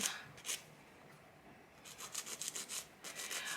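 Press-on nail being filed, faint close rasping strokes, one short pass early and then a quick rhythmic series of about eight strokes.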